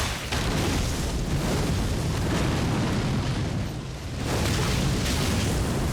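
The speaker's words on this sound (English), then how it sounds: "Oh, they're flamethrowing me." Enemies' flamethrower attack in the video game Elden Ring: a loud, continuous roaring whoosh of fire that dips briefly near the end and then surges back.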